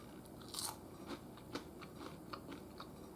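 A crisp bite into a thin homemade cheese cracker followed by close, crunchy chewing, with irregular crackling crunches repeating quietly.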